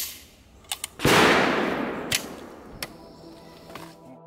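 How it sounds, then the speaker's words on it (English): A Zastava M90 rifle fired outdoors on its first rounds: a few light clicks, then one loud, booming report with a long decaying echo, followed by a couple of fainter cracks. "we put the very first rounds through it"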